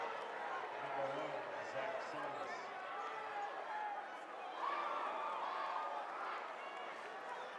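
A basketball crowd at a high school state tournament cheers after a dunk, a dense, distant roar of many voices that surges again midway, with squeaks and bounces from the court beneath.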